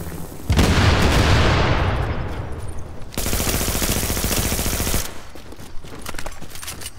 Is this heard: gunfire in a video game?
yes